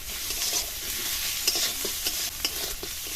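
Onion, grated garlic and ginger and chopped chili frying with salt in a pan, a continuous bright sizzle with light, irregular stirring taps and scrapes throughout.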